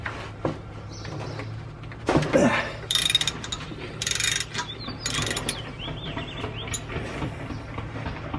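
Ratcheting wrench clicks and metallic mechanical sounds come from loosening the differential drain and fill plugs on a 2017 Jeep JK, in short bursts over a low steady background hum with faint bird calls.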